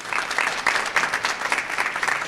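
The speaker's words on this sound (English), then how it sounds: "let's give him a big round of applause" An audience at the 2024 Delaware Electoral College vote gives a round of applause for the Secretary of State, steady moderately loud clapping from many people with a slightly pulsing rhythm.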